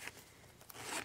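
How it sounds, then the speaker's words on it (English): Zipper on an A5 Filofax organizer being pulled, a brief soft rasping zip, quiet and close with no talk. "It's got this beautiful zipper part"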